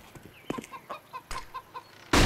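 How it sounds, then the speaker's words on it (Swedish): Chicken clucking in Counter-Strike: Global Offensive, a quick run of short clucks in an uneven rhythm, fairly close, ending in a sudden loud burst of noise. "Jävla kycklingen!"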